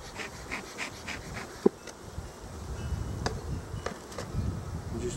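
Honey bees buzz around an open hive during a honey pull, a soft continuous hum with scattered louder passes near the microphone and a few light knocks.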